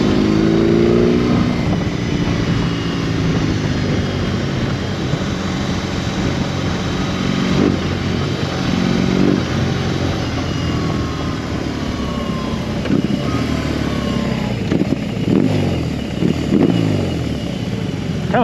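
A 2022 BMW R18B motorcycle being ridden, its exhaust note a steady, throaty rumble with wind noise and occasional shifts in engine pitch, close and continuous without talk.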